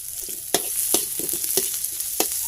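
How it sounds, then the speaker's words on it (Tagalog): Ginger sautéing in a pan for a Bicolano smoked chicken and coconut milk dish: a steady hiss of frying with several sharp scraping stirs of a utensil, close and fairly loud, no talking. "So yun na natin igisa ito, ating mga ricado. Diyan na yung ating ginger."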